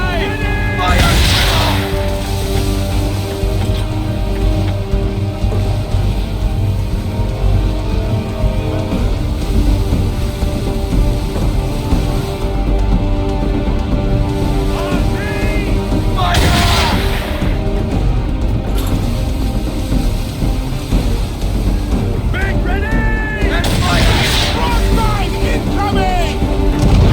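Naval cannon fire during a ship battle in Assassin's Creed 3: a few heavy booms spaced far apart over a continuous tonal musical score, with shouted voices in between.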